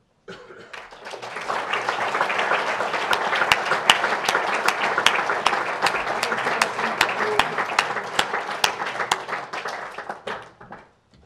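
Audience applauding at an opening ceremony for a new academic year, a sustained round of close hand clapping that swells, holds for several seconds and fades out, with a few coughs mixed in.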